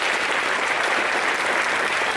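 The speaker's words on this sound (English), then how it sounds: "what we're going to do is we're going to applaud to bring her up" An audience applauds to welcome a featured speaker onto the stage, a dense, even wash of many hands clapping, loud and continuous throughout.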